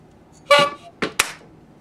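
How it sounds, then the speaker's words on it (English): Indoors during a talk show, a horn sounds three short, close honks: one longer blast, then two quick toots in rapid succession. "Chap can honk the horn."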